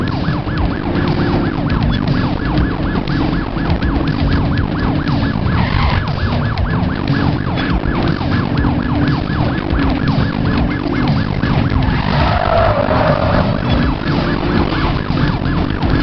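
Police car chase with wailing sirens in the game The Precinct, a continuous loud siren sweeping up and down over engine rumble for the whole stretch, with no talking.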